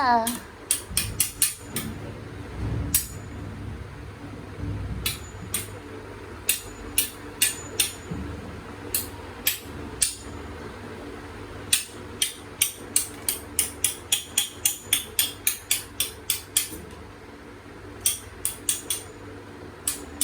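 A child bangs a spoon in a rapid, irregular series of sharp metallic clacks, close and fairly loud, with bursts of hits and short pauses over a steady low background hum.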